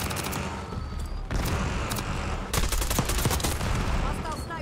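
Rapid automatic gunfire from Call of Duty Black Ops 6 on the Nuketown map, a dense fusillade of repeated shots with a gold AK-74, loud and continuous with bursts, voices talking underneath.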